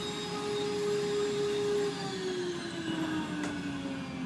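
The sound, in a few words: vacuum cleaner with clogged filter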